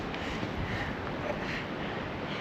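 Strong wind roars steadily across an open mountain trail in Loch Vale in winter, a continuous broadband buffeting at the microphone with no clear breaks or gusts standing out.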